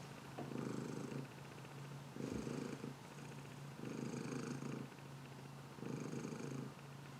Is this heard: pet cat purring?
yes